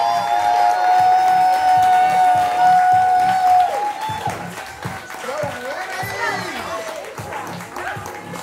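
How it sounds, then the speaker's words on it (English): Audience at a spoken-word poetry anniversary show claps for a performer, sustained applause with crowd noise and voices over a held musical tone. "Y'all go ahead and start clapping for Winnie"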